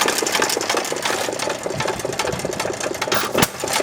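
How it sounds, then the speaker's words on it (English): A 1919 Domestic side-shaft hit-and-miss engine chugs steadily at close range, a rapid mechanical clatter with a regular beat and no voices. "I think that's a sweet running engine there, Mike."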